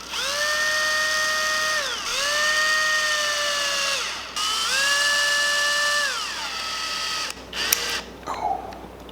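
A power drill bores into a wooden fishing lure to recess the line tie. Three close whining bursts rise and settle in pitch, followed by a few short scrapes and taps.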